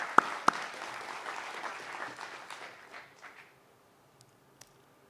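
Audience applause at the 2025 APA Utah Chapter fall conference in Salt Lake, a room of steady clapping for about three seconds that fades out, followed by a couple of isolated claps near the end.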